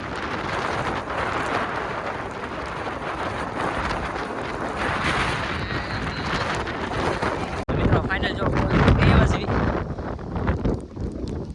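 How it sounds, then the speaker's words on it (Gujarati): Strong, cold, gusty wind buffets the microphone beside Bortalav lake in Bhavnagar, a loud, rumbling roar, with a sharp shift partway through and faint voices beneath. "ઠંડો ઠંડો પવન આવે છે"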